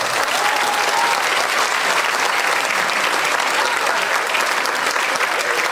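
A concert audience at a Turkish music choir's summer show applauds loudly and steadily: dense, even clapping from a large crowd that fills the hall without a break.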